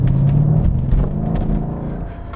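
A Mercedes-Benz E63 AMG wagon engine rumbles deep and loud from inside the cabin while driving in comfort mode, with a steady low drone that eases slightly toward the end.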